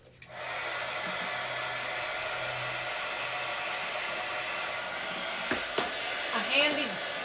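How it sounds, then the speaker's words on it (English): A heat gun used for dry embossing during altered-book junk journal crafting blows with a steady, close, continuous whirring rush from start to end, broken only by a couple of small knocks near the finish. "A handy heat gun I bought just for embossing, dry embossing."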